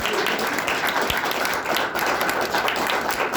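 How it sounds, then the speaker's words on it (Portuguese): A church congregation claps together in praise, a dense, steady patter of many hands filling the room throughout, with no talk over it. "E as palmas do Senhor."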